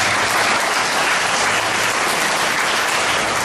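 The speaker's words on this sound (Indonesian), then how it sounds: "Kita beri tepuk tangan buat kasih Tuhan." A church congregation applauds during a sermon, a loud dense wash of clapping that holds steady and unbroken from start to finish.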